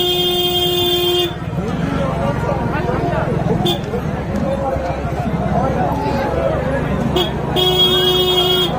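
Steady car horn tones sound at the start and again near the end, over a busy bustle of crowd voices and traffic at a crowded fair.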